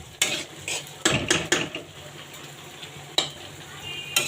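Leafy bottle gourd greens are stir-fried in a pan. A spatula scrapes and knocks against the metal in irregular bursts over a soft, steady sizzle.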